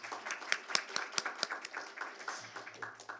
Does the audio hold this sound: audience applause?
yes